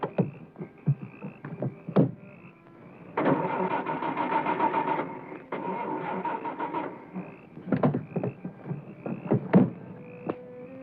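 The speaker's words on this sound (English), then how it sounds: "my car won't start" A car engine cranks repeatedly without catching, the starter grinding in several sustained bursts between sharp clicks and knocks, heard close and fairly loud with no talking.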